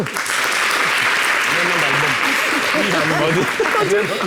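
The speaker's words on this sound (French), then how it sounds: "merci d'applaudir la mise à niveau" An audience applauds steadily for several seconds, dense clapping with voices talking and calling out over it.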